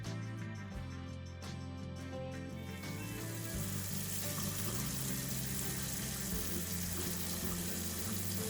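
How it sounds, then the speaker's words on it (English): Water runs steadily from a tap to flush air out of a Davey pump line, starting quieter and swelling into a louder, continuous broadband rush after a few seconds, heard alone without talk. "Now flush out any air in the line and turn off the tap so that the pump can shut down automatically again."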